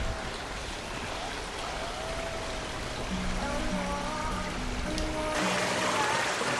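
A stream running through the small Spanish village of Lavacolla on the Camino de Santiago, a steady broadband rush of flowing water heard close and continuous, with faint tonal background sounds drifting in and out.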